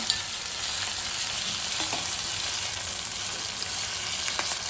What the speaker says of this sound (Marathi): म्हणून आता आपण टाकूया टोमॅटो।